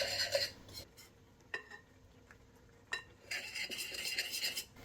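A spoon working egg into flour for scone dough in a bowl, with scraping, stirring bursts at the start and end and a few sharp clinks between quieter pauses, close and fairly soft.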